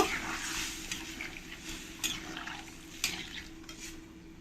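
Fried vegetables stirred with water in a pan, soft scraping and faint sizzling with occasional light clinks of the spoon against the pan, quiet and close with no talking.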